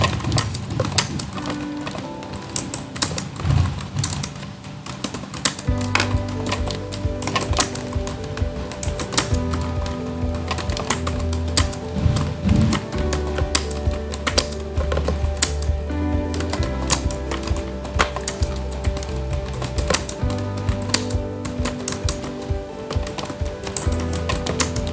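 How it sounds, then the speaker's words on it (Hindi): Steady, rapid keystrokes on a computer keyboard during a one-minute typing speed test, continuous clicking through the whole stretch with tonal background music layered over it. "सो मेरी टाइपिंग स्पीड आई है 39।"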